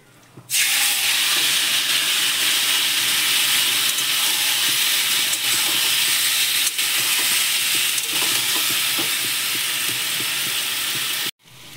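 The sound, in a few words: adding boiled vegetables to hot oil for shukto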